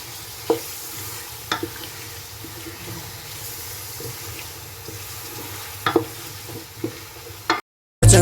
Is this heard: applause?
no